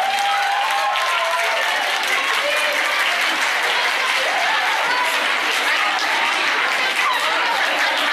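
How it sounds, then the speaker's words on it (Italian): Sustained applause from a crowd at a school Christmas flute concert fills the whole stretch, dense steady clapping with some voices mixed in. "Un bel applauso per la terza B."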